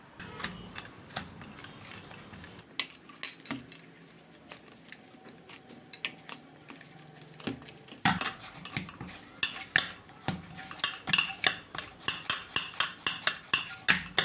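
Warm semolina dough being mixed and bound in a pan, heard as clinking and scraping that starts soft and sparse and then turns into a quick, steady run of sharp metallic taps and scrapes.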